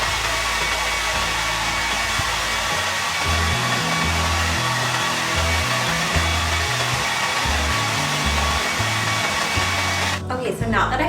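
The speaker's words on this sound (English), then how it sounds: "I'm just going to hit it with the blow dryer on cool just to make sure that it's completely dry" A blow dryer on its cool setting drying a wig topper runs as a steady, loud whirring blast that holds throughout and cuts off abruptly near the end.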